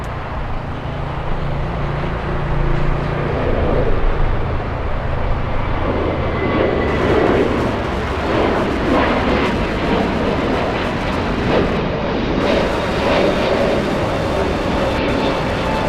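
United airliner at LAX, a continuous heavy jet-engine roar that swells slightly partway through and stays loud throughout, with no talking.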